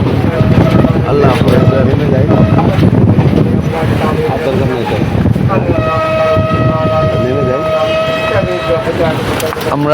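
A train rumbling at a railway station in Sri Lanka, loud and close with wind buffeting and a sustained horn-like tone partway through, as people talk over it.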